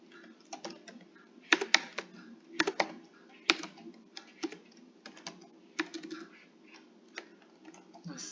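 Computer keyboard typing while a class gets renamed, irregular bursts of key clicks with a few louder clacks, close and fairly quiet, with no talking.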